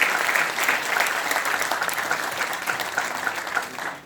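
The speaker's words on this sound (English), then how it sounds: "a round of applause once more to welcome him" Audience applause welcoming a minister at a fireside chat, a steady dense patter of many hands clapping in a hall, sustained and fairly loud throughout with no voices over it.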